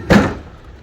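A Samsung refrigerator's freezer door swings open with a single soft thump and a brief rush of air, close and fairly loud, then settles into quiet.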